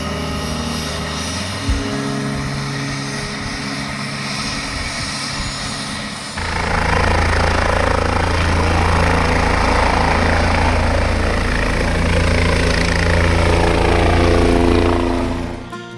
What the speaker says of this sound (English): They're using a helicopter to get rangers in to treat weeds.